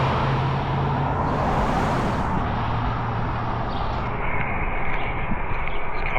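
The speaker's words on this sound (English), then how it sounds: "cars are so damn noisy, man." Cars drive past outdoors, a loud, broadband roar of traffic swelling and fading close by for several seconds.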